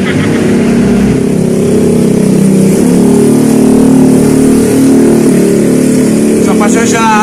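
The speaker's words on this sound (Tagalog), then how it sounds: "So, pasensya at highway ito, maingay." Noisy highway traffic passing beside an outdoor eatery, a loud continuous roar of engines and tyres with a vehicle surging by, while a person talks over it.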